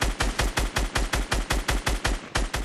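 Rapid automatic gunfire in Fortnite Battle Royale, a steady burst of about fifteen evenly spaced, punchy shots fired close and loud with no talk over it.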